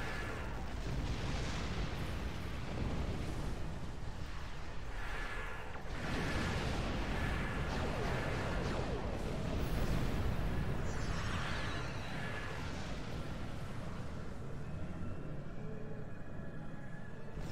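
Plasma torpedo weapon fire in Star Trek Online, heard as a sustained, dense roar of booming blasts and rumbling explosions that stays loud and steady throughout.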